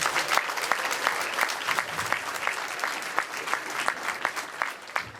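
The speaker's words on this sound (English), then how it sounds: "can we have a round of applause for my good friend Mike Tashi?" An audience at a newspaper's 10th anniversary dinner applauds, with individual sharp claps standing out distinctly within a lively, moderately loud round of clapping that carries on for several seconds.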